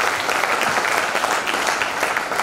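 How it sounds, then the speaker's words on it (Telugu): A seminar audience gives big, sustained applause at a training session, dense steady clapping filling the room at full volume from start to finish. "బిగ్ క్లాప్స్ వస్తారు వాళ్ళందరికీ"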